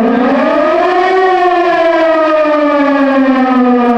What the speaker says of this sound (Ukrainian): Тут лунають звуки сирени, але хвилюватися нічого.